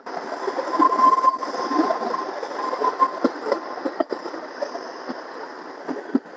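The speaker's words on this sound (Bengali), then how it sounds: "দেখুন ট্রেনটা ঘুরবে" A train rumbles steadily along a winding mountain track near Shimla, with wheel clatter, rattling carriages and a faint high squeal, sustained and close throughout.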